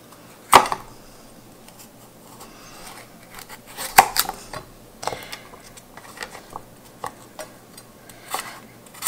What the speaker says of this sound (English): And then I'm just going to cut